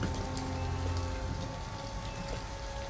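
Steady rain falls on surfaces in the video game Detroit: Become Human, a dense, constant patter with scattered nearer drops and a low background rumble, heard alone.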